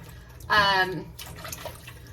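Blanched purple beans drop into ice-cold water, giving one short, fairly loud splash with a ringing, bubbly tone that fades within half a second over quiet room noise.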